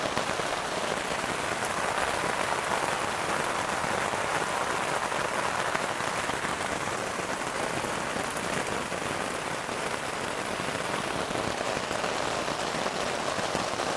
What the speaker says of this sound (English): but it's a heavy, heavy downpour.